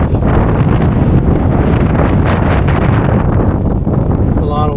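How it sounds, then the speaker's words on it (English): Strong wind buffets a microphone outdoors during front brake rotor and pad replacement on a Land Rover LR4/LR3, a loud continuous roar filling the whole stretch with no clear talk. "It's a lot of wind."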